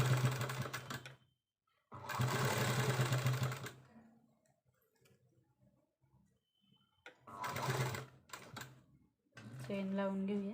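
Domestic sewing machine stitching along the edge of a baby frock in short bursts of rapid whirring, broken by pauses, with a few small handling clicks in between.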